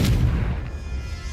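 A Confringo blast spell from the video game Hogwarts Legacy fires off as a sharp, loud burst that dies away into a rumbling tail, heard alone.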